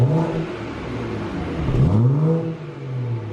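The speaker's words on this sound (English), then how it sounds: "could you give us a rev check in comfort at the moment?" BMW F31 340i Touring with a B58 engine, in comfort mode, revs up sharply from idle and settles back down, a quiet, smooth engine note heard close by with no talking.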